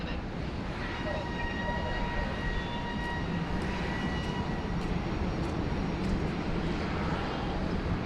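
An airliner departs full length from runway 16 right at Sydney Airport, its engines a broad, steady roar that holds constant and fairly distant throughout.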